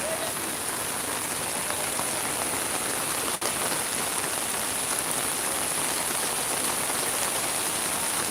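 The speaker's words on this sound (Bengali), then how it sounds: "প্রচুর পরিমাণ বৃষ্টি," Heavy rain pouring onto a market street during lockdown, a loud steady hiss of drops on surfaces that continues without pause, no voices.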